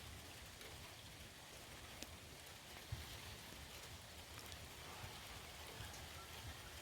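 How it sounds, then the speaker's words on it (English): Steady rain falling outdoors by a fishing spot, a soft even patter with occasional louder drops, quiet and continuous with no talking. "I see the rain starting"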